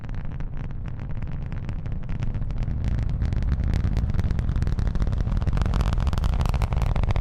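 A rocket launch rumble rises from liftoff, a dense, continuous low roar with crackling texture that swells slightly louder and holds steady, with no talk over it.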